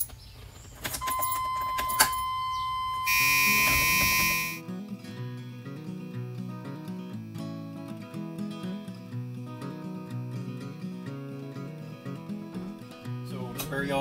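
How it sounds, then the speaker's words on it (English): A loud, harsh buzzer inside a 4x4 short bus blares steadily for a couple of seconds, then cuts off, leaving music playing with faint voices underneath. "from that crazy loud buzzer"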